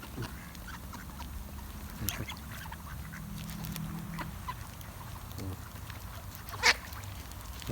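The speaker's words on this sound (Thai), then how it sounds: "เป็ดเยอะมากนะครับ" Many ducks quacking and squabbling nearby as they fight over food in a noisy outdoor scene, with someone talking now and then.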